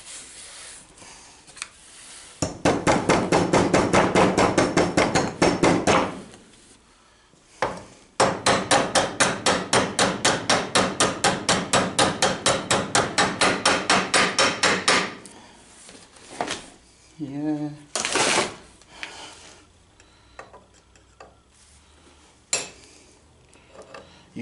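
A hammer drives a punch to knock out the wheel bearings on a 1987 Starcraft Starmaster trailer. Two long runs of rapid, evenly spaced metallic blows ring out up close, then a few scattered knocks follow.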